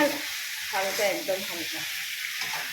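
Boiled chicken goes into a pan of well-cooked, oil-releasing spice masala for a gravy chicken dish, giving a steady, close sizzle and frying hiss with some stirring throughout.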